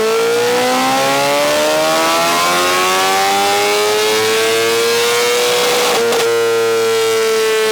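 A 2023 BMW S1000RR motorcycle engine revving hard on a dyno, a loud, close, steadily rising wail that climbs through the gears with a brief stutter near the end before settling again.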